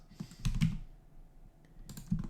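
Computer keyboard keys are pressed in a few short clusters of clicks with pauses between them, close and fairly quiet, with no talking.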